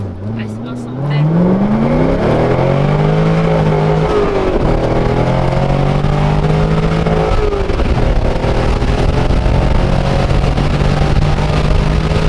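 A C6 Corvette, set up as a drift build, accelerates hard on the road, its engine note climbing in rising harmonic sweeps through several gear changes, loud and close from inside the cabin, with voices talking over it.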